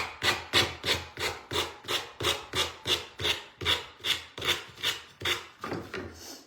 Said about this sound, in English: That way we don't have to sand in between the slats as much.